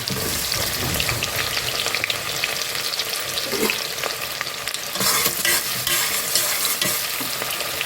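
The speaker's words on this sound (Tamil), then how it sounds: "ஒரு அரை பெரிய வெங்காயம் போட்டுக்கிறேன் சோம்பு நல்லா பொரிஞ்சிருச்சு" Onions frying in hot oil with fennel seeds for coconut milk rice, a steady close sizzle and crackle with stirring scrapes throughout, no voices.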